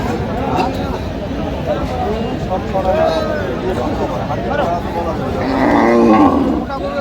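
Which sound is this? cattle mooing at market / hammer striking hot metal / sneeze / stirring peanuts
cattle mooing at market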